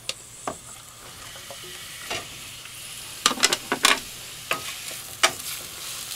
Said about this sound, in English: get the oil hot here, and I'm going to saute our onions